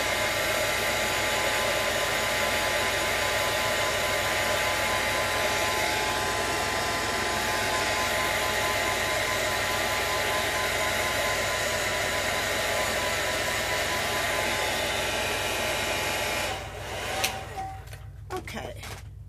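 Hair dryer blowing over wet paint on a mixed-media art journal page, a steady loud whooshing drone that runs continuously and then cuts off near the end, leaving quiet rustling.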